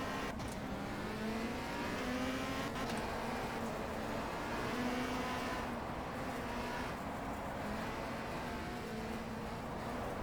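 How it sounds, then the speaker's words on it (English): Engine roar of a racing car in a WTCC video game at Puebla, Mexico, with a steady tyre scrub as it slides, continuous and fairly even in level throughout. "You can hear the scrubbing sound effect as well of the car sliding."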